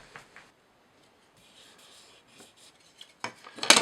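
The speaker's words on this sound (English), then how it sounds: "we quickly get this bit of wood clamped on to bring the whole lot smooth" Wood clamped for a cigar box guitar is rubbed smooth, with soft scattered scraping strokes and a quiet pause, then louder, rapid rasping at the end, close up and without talk.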